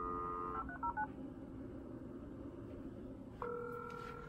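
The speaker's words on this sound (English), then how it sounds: "once this starts to dial out, we'll move over" A dial-up modem dials out with a quick string of loud touch-tone beeps, then a pause of low line noise, followed by a steady tone from the connecting line.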